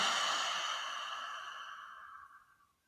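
A long, slow exhale of breath during a yoga session, close and breathy, starting fuller and tapering gradually into quiet.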